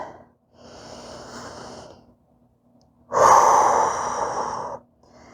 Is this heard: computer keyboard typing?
no